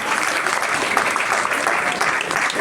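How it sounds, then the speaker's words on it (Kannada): Loud audience applause for a group of boys at a gathering, dense and steady clapping that continues without a break throughout. "ಅವ್ರಿಗೆ ಜೋರಾಗಿ ಒಂದು ಚಪ್ಪಾಳೆ ಬರ್ರಿ ನಿಜವಾಗ್ಲೂ ಹುಡುಗರಿಗೆ"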